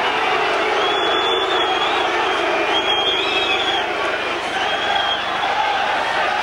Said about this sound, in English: that doesn't go down too well with the crowd